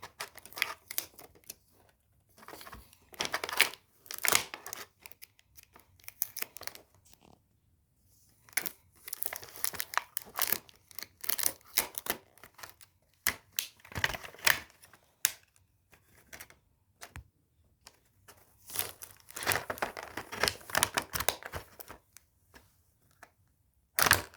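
Plastic and paper packaging crinkles, rustles and tears in close, irregular bursts as a package of small items is opened, with short quiet pauses between the handling sounds.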